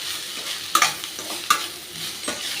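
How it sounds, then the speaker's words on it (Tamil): Cooked raw rice being stirred with salt in a pan for cucumber rice, soft scraping and a few sharp spoon clinks against the metal, close and alone with no talk. "இந்த சாதத்துக்கு தேவையான உப்பு அதை நல்லா மிக்ஸ் பண்ணிக்கலாம்."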